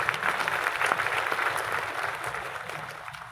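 An audience applauds at a paint training session, dense clapping that starts loud and gradually tapers off over a few seconds.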